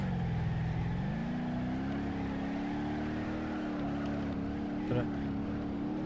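A front-wheel drive car in BeamNG gives a steady engine drone whose pitch climbs and then holds level, with a brief scrape near the end when the handbrake comes on.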